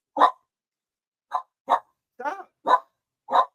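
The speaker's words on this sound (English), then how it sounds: "Man, no wonder the dog upset" A dog barks six times in short sharp bursts, one alone and then five in quicker succession, close by with silence between each.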